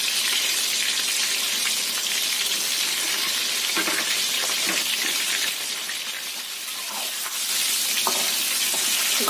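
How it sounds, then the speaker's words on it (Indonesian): Meat sizzles and crackles continuously in hot oil, a close, steady frying hiss with small pops, briefly dipping before rising again; no one speaks. "Kita goreng sampai kering."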